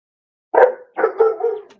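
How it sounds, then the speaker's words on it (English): A dog barks close by, one sharp bark followed by a pause and then a quick run of two or three shorter barks and yips. "my dog's barking, but that's okay. My doggy's barking."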